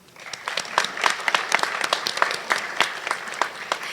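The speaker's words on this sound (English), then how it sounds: "Round of applause." A crowd at a sports hall of fame ceremony gives a round of applause, steady and moderately loud clapping filling the room throughout, heard fairly close with no clear voices over it.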